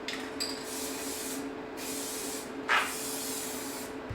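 An aerosol can of guide coat sprays on a Miata body panel in several sustained hissing bursts with short pauses between, close and steady, alongside a faint constant hum.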